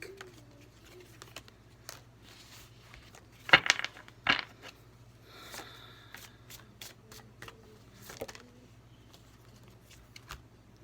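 A tarot card deck is shuffled in a few quick riffling bursts, close and crisp against a quiet room with soft background rustles and a low hum.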